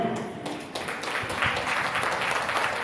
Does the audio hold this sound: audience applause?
yes